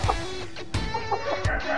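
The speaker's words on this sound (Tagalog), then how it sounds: "female na hen" A red kelso cross hen of lemon bloodline clucks in a few short, close calls within a second or two, over faint yard background.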